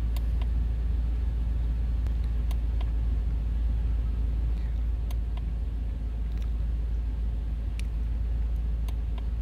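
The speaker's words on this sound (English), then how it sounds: "I've turned on my van" A parked van's engine idles steadily, a constant low rumble holding even and unbroken throughout, with faint clicks and small rattles over it and no talking.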